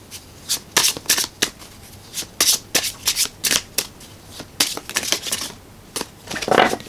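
Tarot cards shuffled by hand ahead of a one-card draw, a rapid series of crisp riffling bursts and soft flicks in an uneven rhythm, close and fairly loud with no voices.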